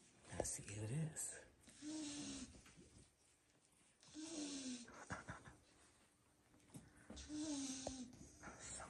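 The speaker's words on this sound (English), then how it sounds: "Someone's snoring." A napping puppy almost six weeks old snores in slow cycles of raspy, whistling breaths repeating every few seconds, soft and close, with faint breathing sounds between the snores.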